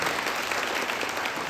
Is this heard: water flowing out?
no